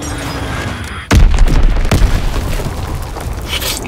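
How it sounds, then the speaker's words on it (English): Big bombs dropping in a video game land with a sudden loud boom, then a second deep blast follows about a second later, each trailing a rumbling decay over a steady background of game noise. "Big ol' bombs coming down"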